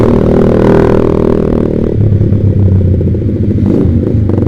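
A Yamaha Vixion motorcycle engine with a Proliner TR1 aftermarket exhaust runs loud and close, a steady deep throb with a brief rev early on and no talking.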